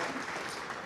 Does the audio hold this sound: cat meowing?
no